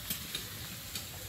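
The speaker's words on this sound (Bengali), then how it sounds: "শেষমেশ এখন এই পাঁপড়টা ভাজা চলছে, পাঁপড় ভাজা আর এইদিকে উচ্ছে ভাজা" Papad and bitter gourd fry in oil, giving a quiet, steady sizzling hiss with a few faint crackles, heard alone at low level.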